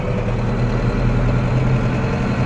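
A farm vehicle's engine runs steadily at close range while driving between fields near a farm, a loud, low, continuous rumble with no voices.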